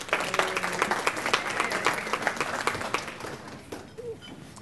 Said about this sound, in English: So fourth year dental students, round of applause to University of Illinois Dental.